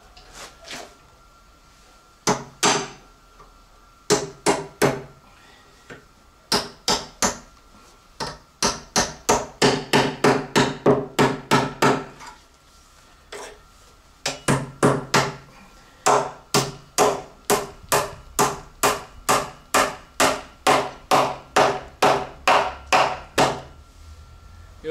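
A hammer drives a nail into a wooden shed door, sounding as a long run of sharp, evenly spaced close-up blows with a few short pauses, loud and with no speech.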